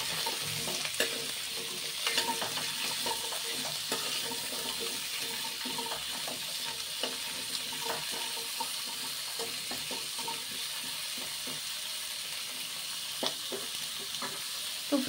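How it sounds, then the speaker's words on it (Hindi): Water chestnuts and green chilli roasting in a pan over a low-medium flame: continuous close sizzle broken by frequent stirring scrapes and clatters over about fifteen seconds, with no talking. "इसमें हम सिंघाड़े को ऐड कर देते हैं। इसको हम लो मीडियम फ्लेम पर इसको हम भून लेते हैं"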